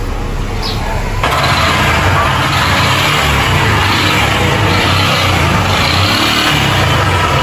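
A 150cc motorcycle engine with an internal fault runs continuously and loudly, giving a steady, rough mechanical noise with a faint rhythmic swell, with no talk over it.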